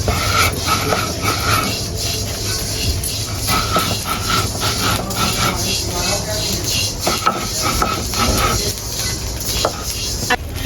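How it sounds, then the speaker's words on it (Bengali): Rice dry-roasts in a pan for Lakshmi Puja sweets, turning crisp. A dense, continuous crackle and rustle of grains being stirred and scraped fills the pan up close, with occasional sharper clinks of the utensil against the metal. "চাল ভাজা কিন্তু খুব সুন্দর মচমচে হয়েছে আর আওয়াজ শুনে আপনারা বুঝতে পারছেন"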